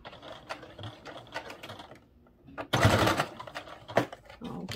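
A sewing machine backstitches a fabric cord organizer in short, rapid bursts of close, quiet stitching, broken by brief pauses and one louder, denser run in the middle.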